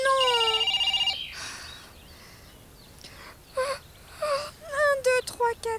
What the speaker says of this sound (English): Oh, Tilly, your phone's ringing.